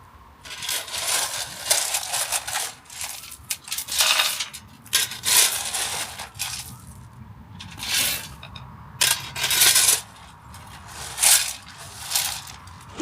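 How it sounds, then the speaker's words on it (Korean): Crushed stone is poured and spread for a garden path, a run of loud, gritty crunching and rattling bursts as gravel tumbles and scrapes, close by and repeating in irregular pulses with quiet gaps between. "이렇게 파쇄석을 깔아줍니다"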